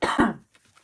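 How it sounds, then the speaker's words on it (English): A single harsh, full-on cough close to the listener, a sharp double burst lasting under half a second, followed by quiet breathing. "That was a full-on cough."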